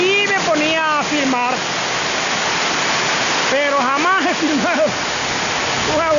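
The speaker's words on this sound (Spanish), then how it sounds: "aguacero tan tremendo" Heavy tropical rain pours down in Vinces, Ecuador, a constant loud rushing hiss like a waterfall. Voices talk over it in two stretches.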